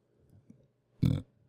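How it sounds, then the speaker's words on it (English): A single short, low burp up close, brief and guttural, after a moment of near silence. "I keep burping"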